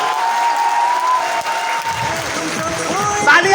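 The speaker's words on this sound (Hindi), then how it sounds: "और जोरदार वाली तालियां" A hall full of people at an academy event breaks into loud, sustained applause that holds at an even level, while a voice speaks over the clapping toward the end.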